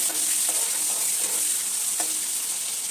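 Tomatoes added to chicken in a pan give a constant bright sizzle, with soft scraping stir strokes now and then underneath and no one speaking.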